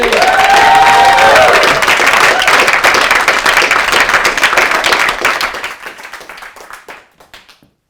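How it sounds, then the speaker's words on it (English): A live audience at a Birmingham public-speaking contest breaks into loud sustained applause with cheers and whoops, then the clapping thins and fades away to scattered claps. "give me the biggest round of applause for the evening"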